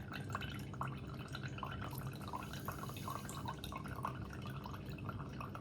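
Water drains from a separating funnel in a chemistry lab as a quiet, steady trickle with scattered drips, nearby and faint, with no talk.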